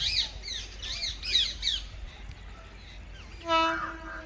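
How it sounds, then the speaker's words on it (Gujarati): Bird squawks chirp at first, then a railway work train's horn sounds a loud sustained tone near the end, at a rail line construction site in Gujarat, India. "તો હોર્ન પણ વગાડ્યું છે"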